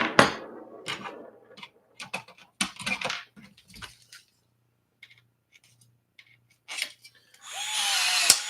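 Riveting a Rans S21 aircraft aileron with a rivet tool: several short, sharp pneumatic bursts come in separate clusters with quiet gaps between them, close and fairly loud, and a longer hiss of air at the end.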